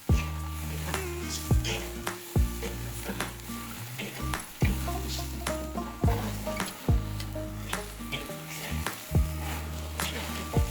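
Steaks sear on a charcoal grill with a steady sizzle, broken by repeated scraping and knocking thuds as the meat is handled or turned.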